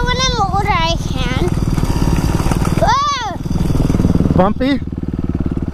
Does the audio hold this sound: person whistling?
no